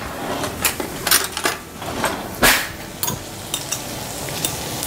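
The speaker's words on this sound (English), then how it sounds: "Now I just need to whisk it." Eggs whisked with cream in a bowl for an asparagus French omelet: a close, irregular series of quick tapping and scraping strokes, some louder bursts, with no voices.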